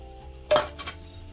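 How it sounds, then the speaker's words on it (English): A spoon stirs coconut flakes into cooked rice in a pot, making one sharp metallic clink followed by a fainter scrape, close and brief, with no talking. "I'm gonna stir this in"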